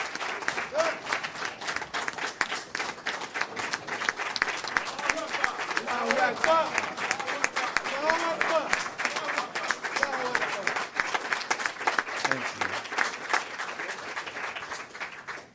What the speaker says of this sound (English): Let us give Sister Shirley a wonderful round of applause